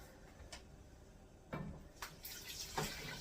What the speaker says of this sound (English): And then we're going to put 2 cups of water in with that.